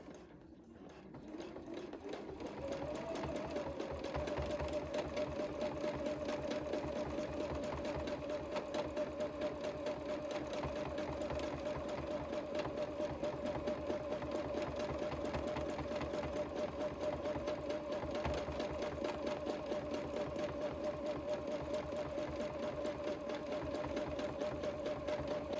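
A sewing machine runs steadily for free motion quilting of squiggles, starting with a brief slow spin-up and then holding a fast, even, rapid stitching rhythm throughout; close and moderately quiet, with no talking.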